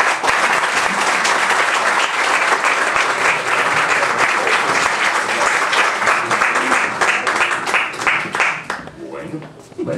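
A loud, sustained burst of audience applause at a jazz concert in a popular museum in Puerto Santa Ana, dense clapping that fills the space and thins slightly toward the end.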